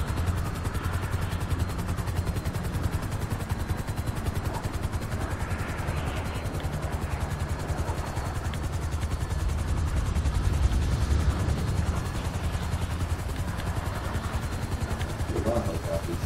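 Helicopter in GTA V during a four-star extraction, a loud steady rotor drone with engine rumble throughout, growing slightly stronger midway, with no talk over it.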